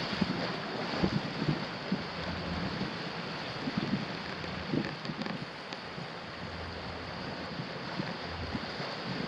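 Ocean waves wash in along a rocky Hawaiian shoreline in a continuous low roar, with surges of surf and wind buffeting the microphone.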